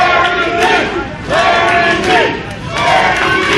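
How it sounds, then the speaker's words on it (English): Wrestling crowd at an independent pro wrestling show roaring and chanting in loud swelling waves, rising and falling in three surges of massed voices. "this crowd has really adopted Larry D"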